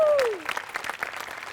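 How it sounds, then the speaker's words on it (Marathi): Audience applause for two comedy performers on a Marathi comedy stage show, a brief burst of scattered clapping after a voice trails off. "तुमच्या दोघांसाठी प्रचंड टाळ्या"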